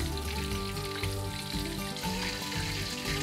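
Vietnamese crispy rice paper rolls fry in a pan with a dense, even sizzle, heard close under a bed of background music, with no talking.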